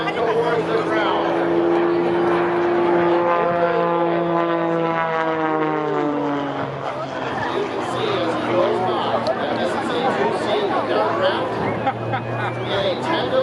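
MX2 aerobatic propeller airplane at an airshow, its engine droning loud and steady with pitch sweeping up and down as it flat-spins toward the ground, while a commentator talks over it throughout.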